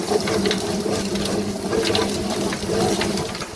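A chicken feather plucking machine runs steadily with water, a continuous mechanical whirring and rattling churn, loud and close.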